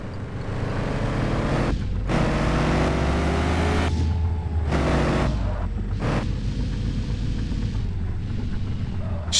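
A Dodge car engine in Car For Sale Simulator 2023 idles roughly and revs while backing up, a loud, continuous rumble with several sharp throttle surges.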